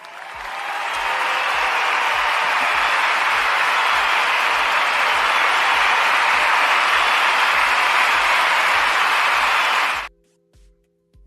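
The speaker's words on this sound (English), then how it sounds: "We love a lot of applause. We love the applause." Studio audience at an evening talk show greets a guest with sustained, dense applause that swells in and holds steady for about nine seconds, then cuts off abruptly into near silence.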